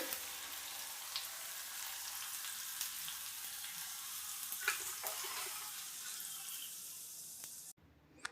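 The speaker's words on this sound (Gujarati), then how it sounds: "1 ચમચી તલ, કટ કરેલા મરચાં, મીઠા લીમડાના પાન બધું આપણે વઘારમાંથી કરી લેશું." Sesame seeds, chopped chillies and curry leaves sizzle in hot oil as a tempering for dhokla, a steady crackling hiss with faint pops that runs on and then cuts off abruptly near the end, fairly quiet and without talk.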